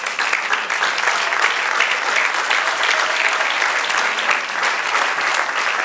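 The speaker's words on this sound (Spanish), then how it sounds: "Amén, aplauda." A church congregation applauds during a Spanish-language sermon, the clapping dense, loud and unbroken for about six seconds, with no voice rising above it.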